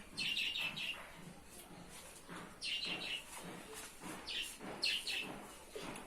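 Small birds chirp near a mud house with a tin roof, giving quiet, repeated bursts of high twittering at a moderate distance, with short pauses between calls.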